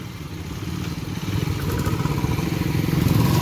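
A KTM Duke 125 BS6 and a Royal Enfield Standard 350 BS4 on a quarter-mile drag strip, their engines building in a steady, rising drone that grows louder across the clip, with no talk over it.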